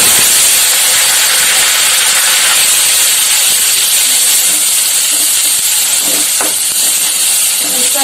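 Cumin seeds, two cardamom pods and black peppercorns hitting hot oil for jackfruit kofta, a loud, dense, steady hiss of sizzling throughout, with faint clinks near the end.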